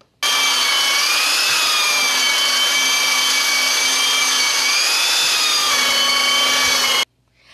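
A woodworker in Lukang sands the top of a piece of Chinese-style furniture with sandpaper and a power sander, giving a loud, steady whirring grind that runs unbroken for about seven seconds and then stops abruptly.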